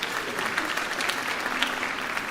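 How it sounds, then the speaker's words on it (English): A concert audience applauds a school's 8th grade jazz band, a steady, dense patter of clapping from a large crowd filling the hall for a couple of seconds without any voices. "how about another round of applause for the jazz band?"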